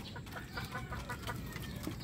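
Naked neck chickens cluck and chatter in a busy flock while feeding, a dense close-up jumble of overlapping calls and pecking with no pauses.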